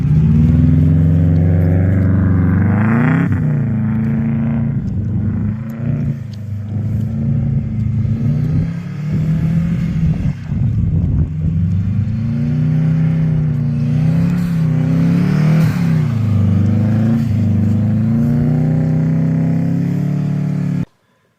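A Subaru engine revs hard and steadily while the car spins donuts in snow, its loud, close roar rising and falling with throttle over about twenty seconds before cutting off abruptly.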